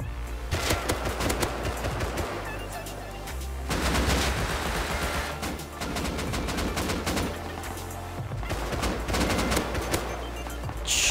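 Kalashnikov assault rifle fire crackles in a video game battle, bursts of loud, close shots coming in clusters with short pauses between them.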